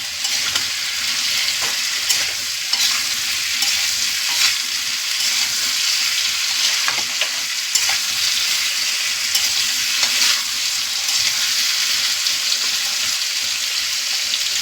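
Potato curry masala sizzling and frying in a pan while being stirred, a continuous close hiss with occasional scraping and clinking of the spoon, no voices.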